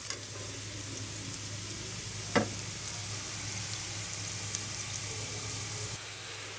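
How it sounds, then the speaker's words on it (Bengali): Magur fish roe chops fry in a modest amount of oil, a faint steady sizzle running under a low constant hum, with one brief louder stir or scrape partway through. "আমি এই তেলে ভেজে নেব"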